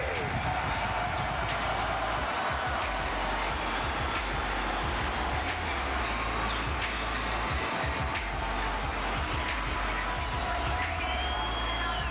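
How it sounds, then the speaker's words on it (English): A packed arena crowd at the 2004 Bassmaster Classic final weigh-in on Lake Wylie roars and cheers continuously for the defending champion, a dense, loud wall of noise with scattered claps throughout. "You guys warm this place up and welcome the defending Classic champ, Michael Iaconelli."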